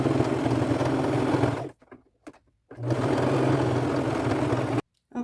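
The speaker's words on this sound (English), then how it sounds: "go all the way across with a straight stitch" A sewing machine runs a straight stitch across a thick flap on a fringe boho bag made from thrifted material, a steady close hum in two long runs, each cut off by a short stop.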